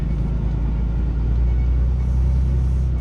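A pickup truck carrying a truck camper rolls slowly through a truck stop lot, its engine giving a steady low rumble that stays loud and even throughout, with no voices.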